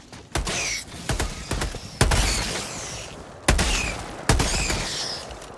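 Rapid bursts of gunfire from shooting enemies in the video game Helldivers 2, with several sharp loud volleys and rattling fire in close succession, heard alone without talk.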